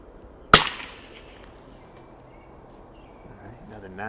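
A single sharp crack from a 1938 Mossberg 43S rifle firing Geco rifle ammo at a 50-yard range, close and loud, then fading into quiet outdoor ambience with faint voices.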